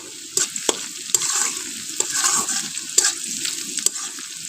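Cut meat browning in a pan in a village kitchen, a steady close sizzle with sharp scraping stir strokes at irregular intervals and no voices.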